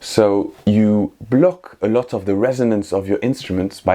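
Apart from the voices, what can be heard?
None of the usual background noises is heard.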